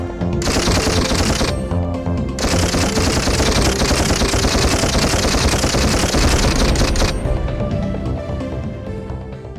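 Rapid, continuous machine-gun fire in the Toy Commander video game blasts away at barrels, a loud dense rattle of shots running almost unbroken with a brief dip partway through.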